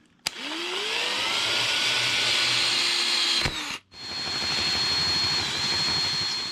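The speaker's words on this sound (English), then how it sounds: "now I'm drilling for the sensor" A power drill with a 1/2 inch bit bores into soft PVC for a sensor fitting during an ECU install, whining steadily and close up, briefly stopping before spinning up again; no talking.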